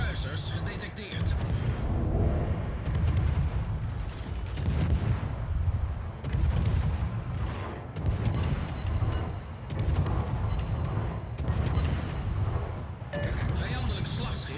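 Warship guns shelling targets in World of Warships, heavy repeated booming salvos rolling in waves under constant battle noise, with a voice talking intermittently over the gunfire.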